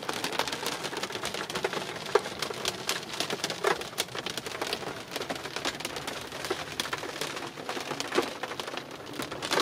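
Steady rain in Zambia patters on a surface, a dense hiss broken by faint scattered taps and drips, with no voices.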